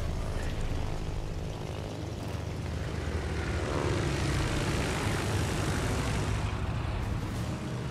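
Aircraft engines of carrier planes in World of Warships: Legends drone continuously, a steady propeller buzz and rumble at moderate level, with no voices.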